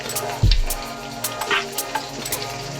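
Onions and green chillies frying in a pan for goat head curry, a close steady sizzle with a sharp thump and stirring scrapes.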